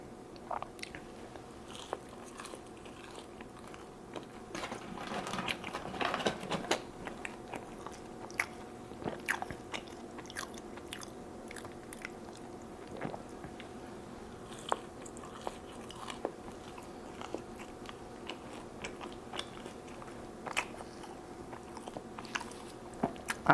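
Fries being eaten during a mukbang meal, with soft crunchy bites and steady chewing close to the mic, irregular small clicks and smacks continuing throughout without talk.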